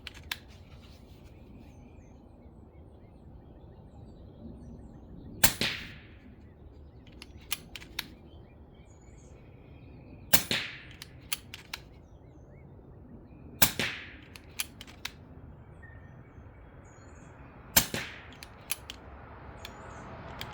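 Four sharp, close shots from an Umarex Notos PCP air rifle crack out several seconds apart, each one followed by a brief ringing tail, with fainter clicks and handling noises between them over a quiet outdoor background.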